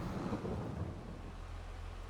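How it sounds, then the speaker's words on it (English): Steady rain with a low rumble of thunder in the Farming Simulator 22 game, a dense, continuous wash of loud weather noise throughout with no voices. "I think what we're going to do now is wait out the rain"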